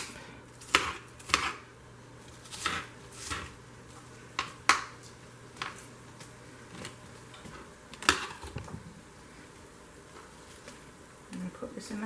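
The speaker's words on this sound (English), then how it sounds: "I'll start sauteing and chop up my other onion." Onions being chopped with a knife on a cutting board in a home kitchen, sharp irregular thunks spaced a second or so apart, close and fairly clear, with no words over them.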